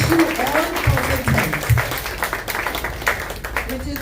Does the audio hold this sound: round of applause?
yes